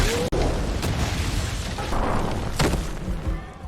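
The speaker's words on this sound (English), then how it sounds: "an explosion ripped through the area" A film explosion rips through an area, a loud, deep rumbling blast with booming bursts that rolls on for several seconds and fills the whole scene.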